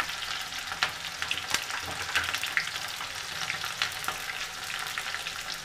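Food frying in a pan on a gas stove while a mixed vegetable dish cooks, a dense continuous sizzle with crackling pops and occasional stirring scrapes, close and fairly loud, no talking.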